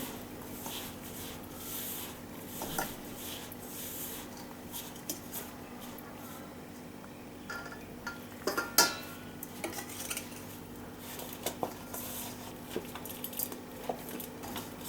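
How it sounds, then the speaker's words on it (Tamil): Coconut milk is poured bit by bit into murukku dough and mixed by hand or spoon in a bowl, with soft scraping, occasional clinks against the vessel and a few sharper knocks over a low steady background hum. "கொஞ்சம் கொஞ்சமாக ஊற்றி மிக்ஸ் பண்ணிடுங்க"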